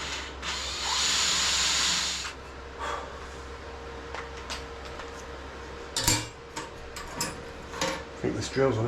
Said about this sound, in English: I think this drill's on its way out.